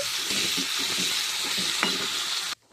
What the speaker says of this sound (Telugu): ఇప్పుడు ఈ టమాటా పచ్చిమిర్చి చింతపండు వేసేసి కొంచెం ఫ్రై చేసుకోవాలండి